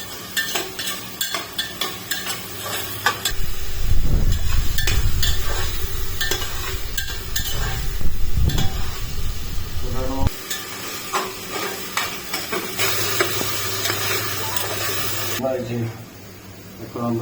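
Onions with spices sizzle and fry loudly in a pan while being stirred, with metal spoon scrapes throughout and someone talking over the cooking for an Arabic mandi-style dish.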